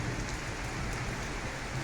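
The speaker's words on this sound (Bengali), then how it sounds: "মেঘ ডাকতেছে আর বৃষ্টি পড়তেছে" Heavy rain in Sylhet city, with hailstones, falling steadily as a dense, continuous hiss and patter, loud and unbroken, with no voices.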